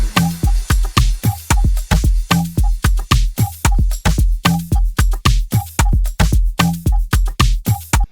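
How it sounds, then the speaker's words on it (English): A looping Afrobeat drum pattern with a third snare sample: punchy kicks and crisp, bright snare hits repeat in a steady, bouncy groove, loud and close, with no voices. "And then the third snare."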